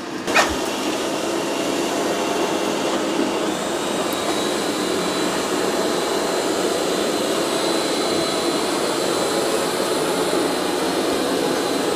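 A robot vacuum with mop pads raised and suction increased hums steadily with a strong, broadband whir that stays even and close throughout, with no pauses.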